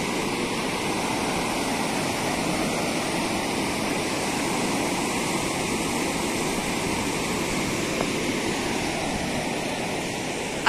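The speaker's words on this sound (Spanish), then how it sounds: "A ver cuánto volumen, este volumen de agua bajará ahí" Water pours down from the top of the La Tigrilla dam in Chiapas in a constant, heavy roar that stays steady and loud for the whole stretch, with no voices.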